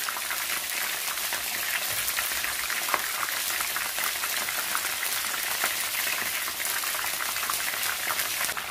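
Tenderloin beef searing in hot canola oil in a pan, giving a loud, steady, continuous sizzle and crackle of frying close by with no speech.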